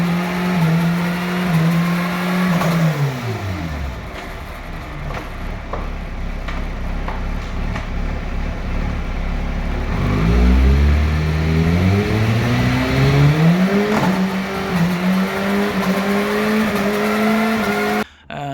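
Kawasaki Ninja ZX6R sport bike engine revving hard through the gears, with rising wails cut by quick-shifter upshifts, then a drop in pitch and another climb, loud and continuous with no talking.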